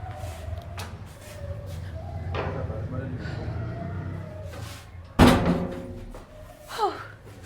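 A door is shut with a single sharp, close slam and thud midway, amid people talking and arguing indoors before and after.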